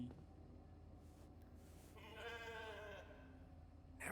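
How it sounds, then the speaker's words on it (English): A sheep bleats in a video game, a wavering mid-pitched call lasting about a second over steady low background hum, with a faint brief sound at the end. "Never thought I'd be so glad to see a sheep."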